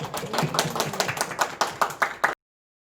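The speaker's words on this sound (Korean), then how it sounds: "영광의 박수 올려드립니다" A church youth congregation applauds in a short burst of brisk, roomy hand claps that build into sharper individual hits before cutting off abruptly.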